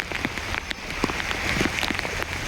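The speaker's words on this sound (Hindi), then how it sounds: "देख सकते हो बहुत ज़्यादा तेज़ बारिश हो रही है इस समय" Heavy rain pours down steadily on a trip to a Shiva temple near Dehradun, a dense, loud hiss of drops striking surfaces with scattered sharper splashes and no talking.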